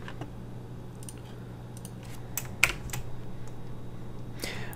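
Keys tapped on a computer keyboard while entering a command on a Raspberry Pi: a few scattered, light clicks and a single sharper keystroke, close and fairly quiet over a steady low background hum, with no talking.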